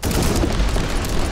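Dense burst of gunfire from Warhammer 40,000: Inquisitor - Martyr, loud rapid crackling shots packed into a brief continuous barrage.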